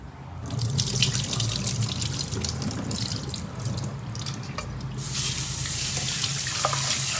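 Food being washed under a running kitchen tap, water pouring steadily into a sink with splashing and dripping, close and continuous, growing a little louder near the end, no voices.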